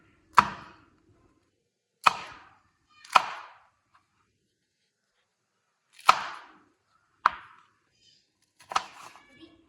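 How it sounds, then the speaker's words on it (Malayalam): Six sharp knife chops on a cutting board, cutting green chillies, widely spaced and irregular, each a crisp close impact with a short decay. "പച്ചമുളക് അരിയാം."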